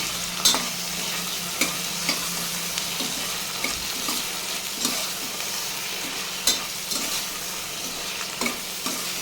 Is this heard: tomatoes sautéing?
yes